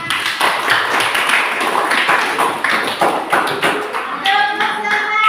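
A classroom group clapping their hands at the end of a teacher-training exam session, a brisk, busy run of claps with sharp taps and thumps, fairly loud and close.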